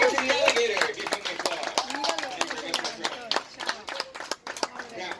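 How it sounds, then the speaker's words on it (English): Audience clapping after an alligator show at Everglades Holiday Park, a scattered outdoor round of applause from a small crowd, with someone talking over it. "applause"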